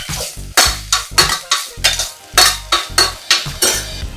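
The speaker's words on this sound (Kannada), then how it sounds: "ಈಗ ನಾ ಏನು ಮಾಡಾಕತ್ತೀನಿ, ಪನ್ನೀರ್ ಹಾಕಾಕತ್ತೀನಿ" Cut paneer is stirred in a hot pan with a utensil: loud, close, rhythmic scraping strokes of about two per second over a sizzling fry, with no talk.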